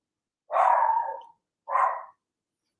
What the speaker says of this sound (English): Sorry about my dog, but